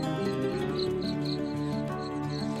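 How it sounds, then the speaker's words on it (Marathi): Birds sing at six in the morning on a hill fort, with bright repeated chirps over a steady insect-like trill, moderately far and quite soft, with no talk. "मस्त पक्ष्यांचे आवाज येत आहेत"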